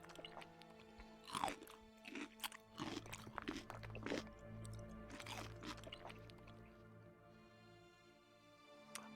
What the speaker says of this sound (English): sound of my jaws crushing the debris of mortar and lime and stone and wood